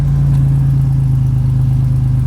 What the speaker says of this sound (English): It has a nice tone because all of those 6 cylinders are coming out of a single exhaust.